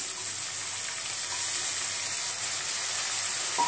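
Moth beans and potato dropped into spices fried in a pot, giving a steady bright hiss that sizzles evenly and close by throughout, with no voices.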